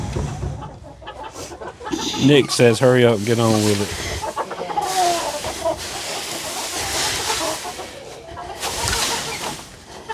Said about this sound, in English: I have escaped chickens.